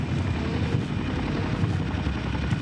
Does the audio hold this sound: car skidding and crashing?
no